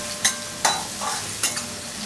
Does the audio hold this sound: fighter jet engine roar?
no